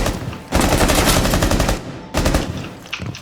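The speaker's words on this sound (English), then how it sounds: "You're just gonna keep shooting me now?" Rapid automatic gunfire in Rainbow Six Siege comes in two loud, dense bursts separated by a brief pause, close and dominant, with no talk over it.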